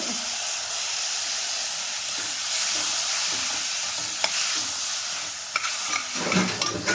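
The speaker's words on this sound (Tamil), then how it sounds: "இந்த தக்காளி கொஞ்சம் பச்சை வாசனை போகிற வரைக்கும் நல்லா வதக்கணுங்க" Onions and tomatoes fry in a pan for a simple kurma, giving a loud, steady, close sizzle and hiss, with a few stirring scrapes and clinks toward the end and no talking.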